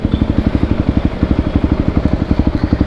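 Yamaha WR 250 supermoto motorcycle engine while riding, a loud close thumping single-cylinder beat with rapid, even pulses and no speech.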